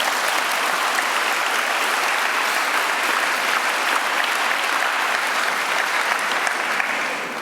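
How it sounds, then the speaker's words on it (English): Loud, steady audience applause at a high school event, a dense wash of clapping that holds evenly for several seconds before easing slightly at the end. "Let's give all of these people a round of applause for their time and donations."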